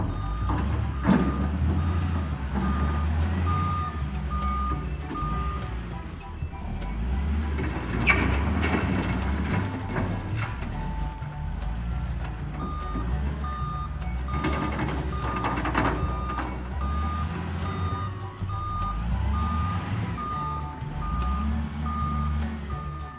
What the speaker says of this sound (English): The dump truck takes the ground to another place.